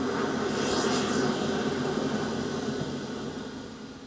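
Steady droning roar of an airplane engine in flight in an air-combat video game, a continuous moderate hum with a broad rushing texture that fades slightly toward the end, no voices over it.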